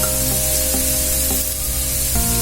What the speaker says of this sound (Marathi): आता कांदा करपतो आहे